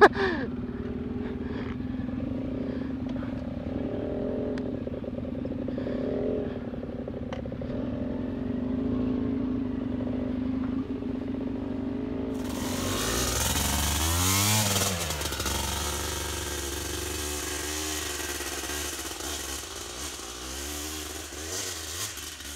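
A Honda Africa Twin off-road motorcycle on a rutted dirt trail, its engine droning steadily before a sudden louder revving surge midway, then a rough, wind-buffeted roar as it rides on.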